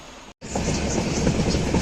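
A local train runs past on the Kanchipuram railway line near a loop crossing: a loud, close rumble with a rhythmic clickety-clack of wheels on the track, after a brief dropout at the start.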